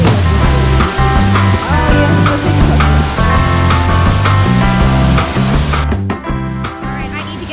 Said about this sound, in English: I thought the one just now was the waterfall.